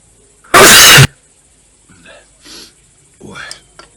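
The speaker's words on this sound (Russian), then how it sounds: "Раз по 20, блядь, чихает" One hard, loud male sneeze bursts out close to the microphone, followed by quiet breathy murmurs and faint speech sounds.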